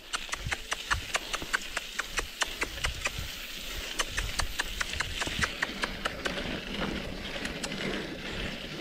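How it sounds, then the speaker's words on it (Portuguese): A horse clip-clops along a rural dirt road, quick regular hoof strikes ringing out close by amid wind noise from a moving bicycle ride. "Cavalo!"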